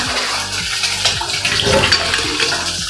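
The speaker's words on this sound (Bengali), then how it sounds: "একটু জল দেবো পরিমাণ মতো" Water pours steadily into a cooking pot holding okra and lentils, a continuous close splashing and gurgling that runs for a few seconds with no speech.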